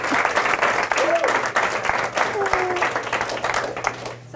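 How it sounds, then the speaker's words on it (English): A roomful of students applauds during a school talk, dense steady clapping at close range with a low constant hum beneath and a few voices faintly heard. "that deserves a round of applause"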